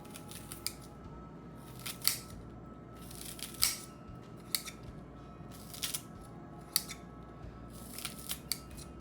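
Kitchen scissors snip green onions in a series of sharp, close cuts, irregularly spaced with several quick snips in a row, with quiet background between them.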